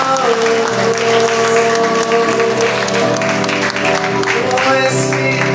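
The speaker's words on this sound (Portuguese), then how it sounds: "Aplauda o nome do Senhor Jesus" A church congregation claps steadily over worship music, the applause filling the room alongside organ-like tones and a voice.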